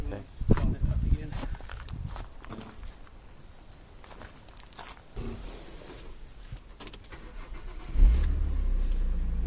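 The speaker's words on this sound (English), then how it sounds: "Start it up again." A Renault Avantime engine cranks and catches after brake bleeding, roaring up loud and close near the end and then running steadily. Before that come quieter shuffling and handling noises, with people talking.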